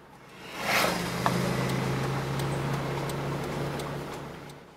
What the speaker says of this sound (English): just here you can hear this car accelerating and coming past him quite fast